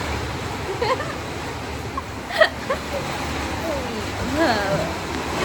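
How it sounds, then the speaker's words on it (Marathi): A dense, steady hiss of heavy rain pounding a roof, constant throughout, with faint voices murmuring underneath. "जोरदार पाऊस चालू झालाय"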